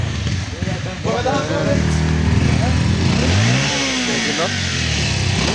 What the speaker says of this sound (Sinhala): ඔක්කොලා බයික් බගිනවා.